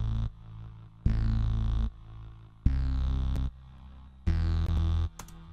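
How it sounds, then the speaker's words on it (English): A synthesized bass tone layered with a duplicate an octave higher plays three sustained notes, each lasting under a second with short gaps between, loud and alone with a steady, rich low end. "I duplicated the bass sound and then played one an octave above"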